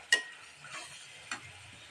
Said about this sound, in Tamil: நல்லா நம்ம இதுக்குள்ளே ஃப்ரை பண்ணிடலாம்.